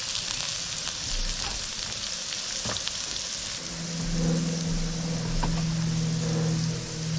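Food frying in hot olive oil in a skillet gives a steady, close sizzle that swells louder about halfway through, with a low hum under it and no talk.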